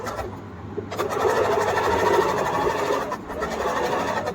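A sewing machine stitches a curved seam on fabric during a fashion design lesson. A quieter hum at the start gives way to a steady, close mechanical whir, which dips briefly before running on.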